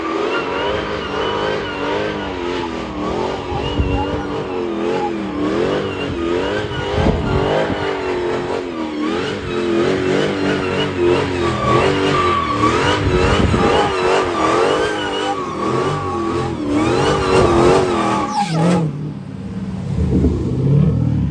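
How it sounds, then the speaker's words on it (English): A car doing a rolling burnout while drifting, its engine revving hard and wavering in pitch over a steady roar of tire noise, loud and close for nearly the whole stretch before dropping away at the end. "going into the rolling burnout."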